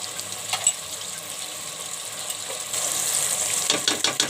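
Moong dal masala with freshly added yogurt sizzles and fries in a pan, with scraping stir strokes that grow busier and louder toward the end, close and without talk.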